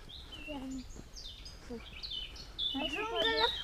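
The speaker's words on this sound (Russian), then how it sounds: "О, как поют птички," Birds chirp and sing in a forest nature reserve in Slovakia, with close, bright warbling phrases that grow livelier toward the end and people talking softly among the calls.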